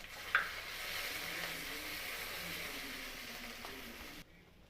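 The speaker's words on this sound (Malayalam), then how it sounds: "കറുവപ്പട്ട, 2 കഷ്ണം ഏലയ്ക്ക, പിന്നെ ഇച്ചിരി ഗ്രാമ്പു ഇതുകൂടെ നമ്മൾ ഈ എണ്ണയ്ക്കകത്തേക്ക് നല്ലപോലെ ഇട്ടൊന്ന് റെഡിയാക്കുവാണ്" Cinnamon, cardamom and cloves dropped into hot oil for a chicken curry give a steady soft sizzle throughout, with a brief pop near the start, before cutting off abruptly near the end.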